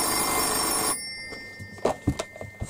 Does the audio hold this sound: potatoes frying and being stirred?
no